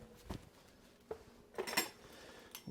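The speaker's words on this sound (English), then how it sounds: "I can move this skillet out of the way." A cast iron skillet is shifted on a kitchen surface, giving a few quiet metallic clunks and scrapes spaced out over a near-silent background.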